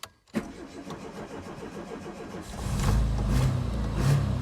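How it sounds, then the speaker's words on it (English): An Austin Maestro engine, with the choke pulled out, cranks briefly, catches, then settles into a steady, rough idle up close, with the running sound growing louder toward the end. "I'm going to pull the choke out and see if we can get it to run."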